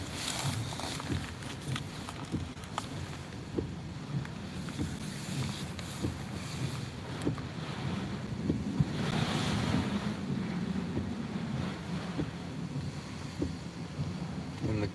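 Hurricane-force wind from Category 4 Hurricane Ida in Louisiana roars steadily and loudly against the microphone, with heavy buffeting gusts surging and swelling toward the middle before easing slightly.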